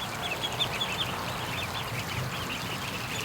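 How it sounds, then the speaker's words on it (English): A flock of ducks emerging from the back of a barn near a creek, many soft overlapping quacks and chatter at middle distance, continuous and busy. "There's a ton of ducks right now down at the creek."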